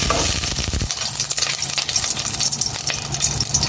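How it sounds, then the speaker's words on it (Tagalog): Yellowfin tuna fries in hot cooking oil, a close, busy sizzle with stirring scrapes and a brief clatter at the start. "Igigisa ko lang ng konti itong yellowfin para hindi malansa."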